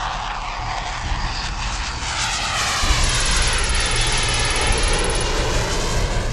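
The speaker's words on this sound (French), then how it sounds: "Le deuxième Rafale escorte l'autre jusqu'à la piste, puis repart directement dans les airs" A Rafale fighter jet roars past on departure from the runway, a loud sustained engine rush with a high whine that grows heavier and fuller midway, heard alone.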